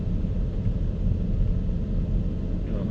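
A BMW E60 M5 engine on a cold start, idling as it warms, gives a steady, continuous low rumble with a dense, even drone that never lets up and no voices over it.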